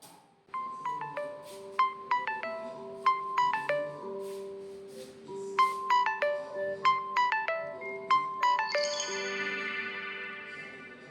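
A mobile phone alarm plays a bright repeating melody of tones, close and clear, looping several times without any talk.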